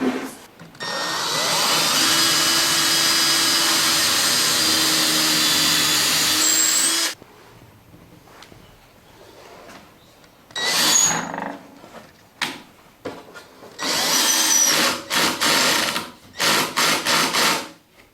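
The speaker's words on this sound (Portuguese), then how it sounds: "Então, tá aqui, vou fazer o furo." Power drill boring a hole through 15 mm MDF board, a loud steady whine for several seconds, then silence and a few short bursts as the bit is run again.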